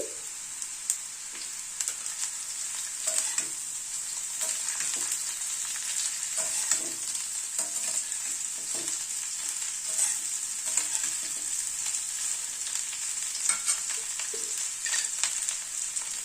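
Cauliflower and potato pieces frying in a pan, a steady bright sizzle with frequent soft scraping stirs and clicks throughout, close and moderately quiet.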